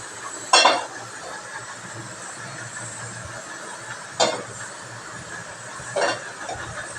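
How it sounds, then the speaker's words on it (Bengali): Mustard oil heats in a pan while being stirred: three short, separate scraping clatters of the utensil against the pan stand out over a steady, faint hiss. "তেলটা যতক্ষণ না গরম হয় ততক্ষণ আমি এরকমভাবে নাড়াতে থাকবো"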